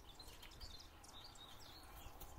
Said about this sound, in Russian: Ой, птички как поют, а?